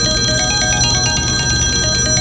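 A telephone rings in a scene from an Uzbek film: a loud, bright bell-like electronic trill that repeats steadily with no talking over it.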